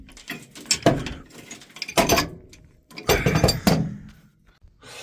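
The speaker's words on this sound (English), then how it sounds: "we're going to take this pipe wrench here and we're going to wiggle it and see if we can't get it to turn a little bit" A pipe wrench wiggles and turns a stuck auger, giving bursts of metallic grinding, clanking and ratcheting in several loud jolts separated by short pauses, close by.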